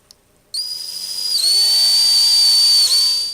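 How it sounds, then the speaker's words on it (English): A drill bores a pilot hole into a magnesium bar, starting abruptly and holding a loud, steady high-pitched whine that shifts pitch slightly partway through as the bit cuts. "The pilot hole has been drilled to a depth that I kind of like."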